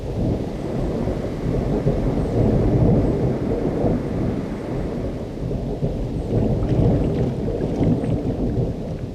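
Steady, heavy spring rain pours down in a remote mid-May wilderness, a dense continuous hiss with low rumbling that may be distant thunder, and no voices.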